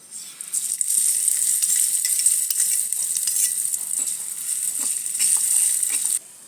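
Sliced onion and green chili frying in a pan after cumin and mustard seeds, a loud close sizzle with stirring scrapes and crackles running steadily before cutting off abruptly near the end.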